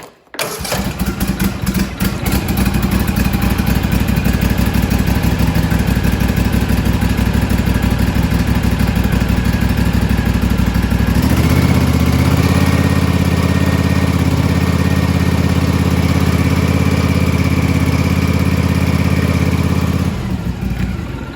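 A Husqvarna zero-turn riding mower's small engine cranks and catches, then settles into a steady, loud idle with a slight shift in tone about halfway through before cutting off.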